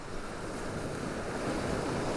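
Sea waves washing onto a shore, a continuous broadband rush of surf with a soft wind-like hiss, steady and moderately loud with no voices.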